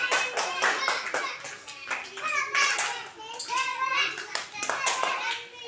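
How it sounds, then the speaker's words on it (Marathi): A group of children clap their hands together in a classroom number game, uneven bursts of claps mixed with excited young voices talking and calling out over them. "जोरात सगळ्यांसाठी एकदा टाळी वाजवा"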